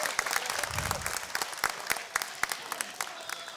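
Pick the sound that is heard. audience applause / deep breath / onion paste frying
audience applause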